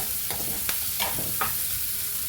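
Grated fresh coconut frying and being stirred in a pan for Kerala-style upma: a steady close sizzle with a few brief scraping stir strokes, no talking.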